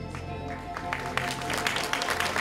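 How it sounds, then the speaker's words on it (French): An audience at a fashion show claps for a contestant, a dense patter of applause that starts thin and swells slightly louder over a couple of seconds. "Allez, des applaudissements un peu plus chaleureux"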